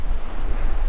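Steady wind rush and lapping waves aboard a reefed sailboat on Lake Erie under cloudy skies, loud and close with buffeting wind noise on the microphone.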